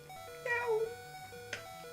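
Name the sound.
voice imitating a cat meowing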